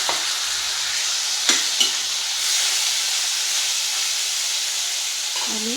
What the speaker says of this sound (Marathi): यामध्ये आपण थोडंसं पाणी टाकून घेणार आहोत.